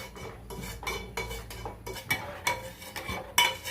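Spoon scraping and clinking against a pan while mung dal sheera is stirred, a series of short, irregular metallic scrapes and taps close by, with no talking.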